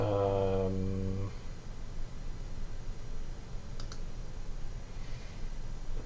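Computer mouse clicking during editing on a computer: a few quiet, sharp clicks, one close pair, over a low background hum.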